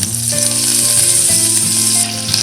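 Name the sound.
garlic, curry leaves and mustard seeds sizzling in tempering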